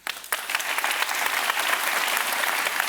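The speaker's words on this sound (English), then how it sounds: "let's have a big round of applause for our panel" A conference crowd at a Bitcoin forum applauds a panel, clapping swelling quickly from a quiet start into a sustained, even roar of many hands.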